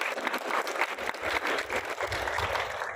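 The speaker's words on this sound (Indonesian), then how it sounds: "Tepuk tangan dulu." Seminar audience applauding in a hall at a digital entrepreneurship event, a dense steady patter of many hands clapping at moderate level throughout, with no talk over it.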